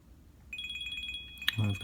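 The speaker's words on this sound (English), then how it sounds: "I've got a phone call." A phone rings with an incoming call during a painting session, a steady repeating electronic tone over room noise, followed by a brief voice.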